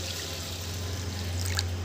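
Water trickles steadily into a bowl of rice for soaking, a soft, continuous close pour with a faint splashy burble and no voices.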